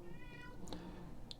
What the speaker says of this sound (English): There goes my cat.